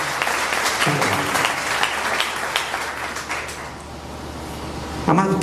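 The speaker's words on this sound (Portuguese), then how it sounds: "aplauda poderosamente o Senhor por essa poderosa palavra" A church congregation applauding, a dense burst of clapping that swells and then tapers off, with a voice breaking in briefly near the end.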